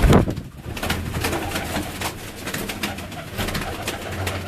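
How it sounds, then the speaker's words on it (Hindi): A high-flying pigeon coos close by in repeated soft, throaty pulses over a steady background. A loud thump opens the stretch. "ये जी हमारा परवाजी कबूतर है।"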